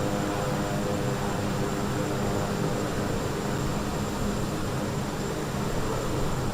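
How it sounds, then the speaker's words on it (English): Aircraft engines idle in Microsoft Flight Simulator, a steady, even roar with a constant high whine that holds throughout at moderate volume without talk. "Can't you turn your engines off?"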